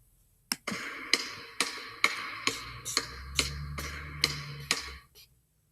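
A basketball bounces steadily on a hard floor, about ten evenly spaced thumps close by, each a sharp smack with a short ringing tail, over a low background hum.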